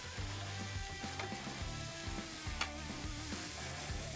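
Onion frying in oil in a pan for a beef stir fry gives a steady, close sizzle with occasional crackles, running under background music.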